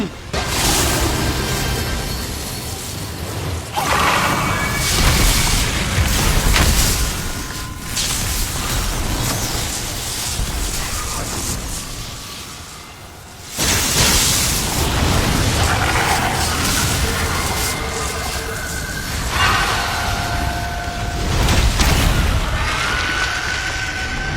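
A cannon turret fires repeatedly in the video game Monster Hunter Rise, producing dense booms and mechanical clanking within loud, busy game sound. It runs almost continuously, with a short lull partway through.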